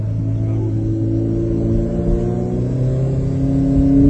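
An Alfa Romeo 4C sports car engine hums with a rich, smooth tone, its pitch climbing gradually as it accelerates, steady and fairly close.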